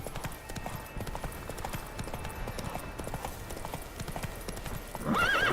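Roach the horse galloping in The Witcher 3, with rapid, steady hoofbeats drumming over ambient game sound, and a brighter musical or whinny-like tone rising in the final half second.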